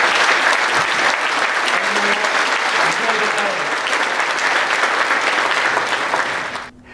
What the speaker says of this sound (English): join me in a big round of applause for all of our wonderful guests